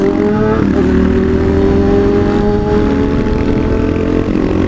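Kawasaki KLR and 636 motorcycles accelerate together on a road, a loud, steady engine roar with rising harmonic whine, close by and continuous, with no talking.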